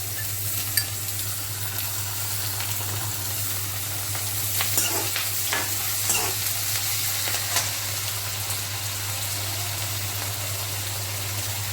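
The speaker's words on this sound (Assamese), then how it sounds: "এতিয়া মই আদা নহৰু গোন্ধটো যোৱালৈকে 1 মিনিটমানৰ সময়ৰ কাৰণে ভাজি ল'ম।" Crushed ginger and garlic frying with onions and whole spices such as cinnamon, cloves and cardamom for an Assamese chicken curry, a steady close sizzle with a low constant hum beneath and occasional stirring scrapes, no talk.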